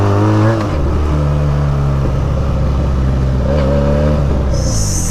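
A Benelli TNT 300 motorcycle fitted with an Akrapovic exhaust idles with a deep, rumbling burble, then revs up with rising engine tones; close and loud, with a brief whine near the end.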